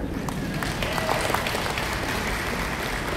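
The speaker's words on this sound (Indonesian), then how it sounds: "Tepuk tangan dong." A seated crowd claps loudly and continuously, a thick, sustained roar of many hands with scattered sharper claps, filling the whole stretch without pause.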